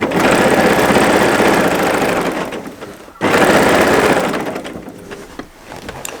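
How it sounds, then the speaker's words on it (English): A domestic sewing machine quilting a fat quarter quilt runs loud and close in a steady buzzing whir, pausing briefly midway before starting again, with no talk. "for quilting on your domestic machine"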